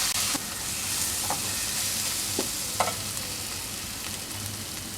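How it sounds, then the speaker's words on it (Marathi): Onion-garlic masala frying and being stirred in a pan for a Marathi brinjal-potato curry: a steady broadband sizzle with a few soft scrapes of the spoon, continuous and close, with no voices. "कांदा लसूण मसाला आपण मिनिटभर परतून घेतला आहे"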